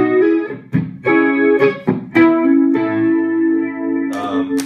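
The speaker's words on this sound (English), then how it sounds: "I've got chorus." Electric guitar chords with a shimmering chorus effect, strummed in several separate hits that ring out and overlap, loud and close.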